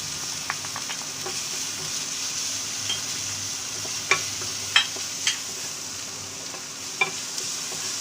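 Steady sizzling of green chilies sautéing in a pan, with a few light clinks of a utensil stirring now and then, close by and without talk.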